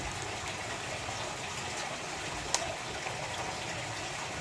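Water poured into a hydroponic lettuce container, a continuous soft rushing gush at steady level with a single brief splash partway through.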